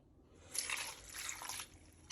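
A short pour of water splashing into a bowl, soft and close, ending with a brief clink.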